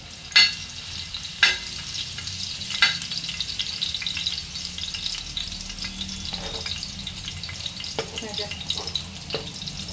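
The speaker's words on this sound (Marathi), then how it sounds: "त्यासाठी तव्यामध्ये तेल गरम करायला ठेवले. थोडंसं लसूण," Garlic fries in hot oil on a tawa for a dried prawn dish, a steady close sizzle broken by a few sharp utensil clicks near the start and a light crackle later.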